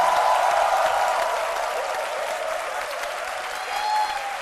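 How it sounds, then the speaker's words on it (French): Studio audience at a midday TV talk show on Ivorian broadcaster RTI 1 applauding: dense, steady clapping sustained throughout, swelling slightly near the end, with no voices over it. "nous avons un charmant et chaleureux public qui va s'applaudir."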